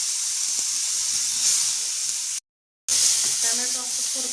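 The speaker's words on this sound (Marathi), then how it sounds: "आता टोमॅटो जरा परतून घेऊ" Tomatoes sautéing in oil in a pan, a steady soft sizzle and hiss with a brief silent gap midway, close by, with light stirring and faint talk.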